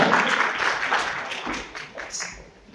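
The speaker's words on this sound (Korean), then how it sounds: "박수 한번 해주시고요" Brief applause from a small group at a church evangelist training lecture, fairly loud at first and thinning out over a few seconds.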